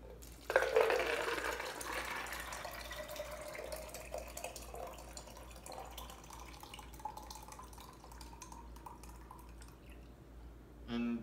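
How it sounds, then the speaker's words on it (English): Boiled soybean mixture being poured into a container for fertilizer, a close liquid splash and steady trickle that tapers off over several seconds, with a brief knock at the end. "You basically need to soak it and then boil it. And then put it into a container."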